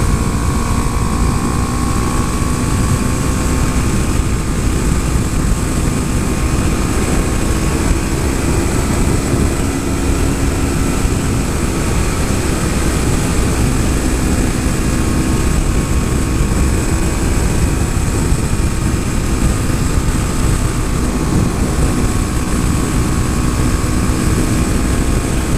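A 2014 Honda Grom motorcycle held flat out through high-speed corners on a track, its small engine droning in a steady, high-pitched buzz with constant wind rush for the whole stretch, no talking.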